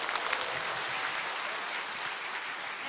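A lecture audience applauds in a dense, steady clatter of many hands clapping at once, filling the room evenly from start to finish with no voices over it.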